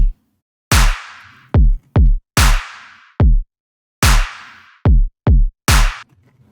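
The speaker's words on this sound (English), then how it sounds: "drop drums sound like this" Tearout riddim drop drum pattern: heavy, booming kicks alternating with sharp claps in a one-clap, one-two-clap rhythm, loud, punchy and closely spaced, with ride cymbal shimmer riding over the hits and no voices.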